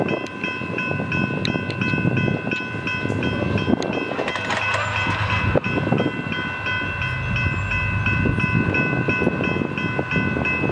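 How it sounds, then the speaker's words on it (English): A train rolls past on the rails with a loud, steady rumble and clatter, and sustained horn-like tones ring throughout, the noise swelling briefly midway. "we got some trains coming."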